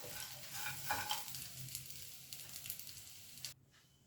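Okra fry is stirred in a pan, the frying sizzle carrying soft scraping strokes for a few seconds before cutting off abruptly near the end; quiet and close, with no talking.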